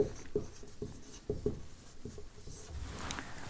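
Chalk or marker strokes on a board during an English grammar lesson: a steady run of quick scratchy taps and rubs, close and fairly quiet, with no talking.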